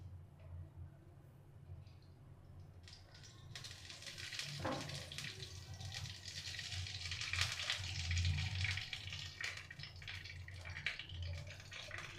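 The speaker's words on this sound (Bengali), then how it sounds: "কড়াই আমি এবার 4 চামচ ঘি দিচ্ছি।" Four spoons of ghee heat in a hot kadai, a soft, low sizzle and crackle that rises gradually and stays faint and steady, with no one talking.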